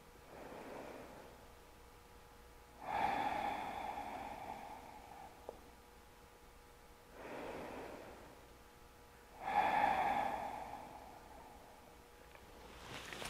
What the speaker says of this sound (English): Maybe you constrict the back of your throat to create that ujjayi sound, to help warm the body.